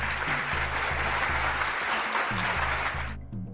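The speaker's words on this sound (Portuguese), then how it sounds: "uma salva de palmas pro Batman Begins" Audience applause fills the space loud and steady for about three seconds, a burst of clapping honoring the film Batman Begins at the close of a podcast segment, then cuts off abruptly.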